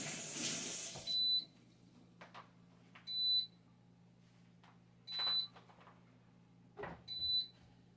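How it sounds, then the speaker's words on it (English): An air fryer heating up beeps high four times at irregular intervals, with soft clatter and a low steady hum in between. "So if you hear it go off, that's a beep."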